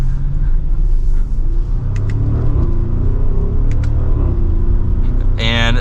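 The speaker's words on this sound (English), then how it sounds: "And that exhaust sounds very good." A 2024 Audi SQ8 Premium Plus is heard while driving, its exhaust a loud, steady low rumble with some engine drone that rises near the end. A person talks over it.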